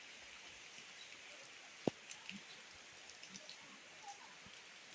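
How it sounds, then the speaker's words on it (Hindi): Rain falls steadily in the evening on a village road, a dense even hiss with a few scattered louder drop ticks, fairly faint, and no talk over it. "अभी यहाँ लग चुकी है बहुत जोरों से बारिश"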